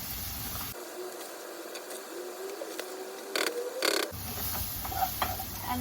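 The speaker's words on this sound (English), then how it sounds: "we are going to stir this one until the flour will get cooked" Flour is stirred into a pan and cooked for a sauce, giving a soft scraping stir over a faint sizzle, with a few louder scrapes near the end.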